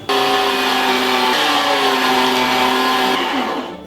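A food processor mincing cut meat for moussaka, a loud continuous motor whine and whirr that holds steady for several seconds, then winds down at the end.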